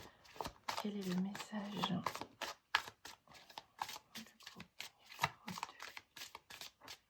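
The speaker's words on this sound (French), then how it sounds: "Allez, on va prendre une première carte ici pour ce groupe 2." Oracle cards drawn and handled during an energy guidance reading, a series of short crisp card snaps and shuffles under someone speaking French.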